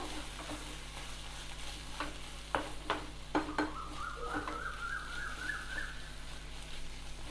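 Fenugreek leaves fry in a pan with a soft, steady sizzle while a utensil stirs them, scraping and tapping now and then, close by with no talking.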